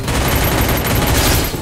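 Rapid gunfire from the Free Fire shooter game, a dense loud burst of shots filling the whole moment with no talk over it.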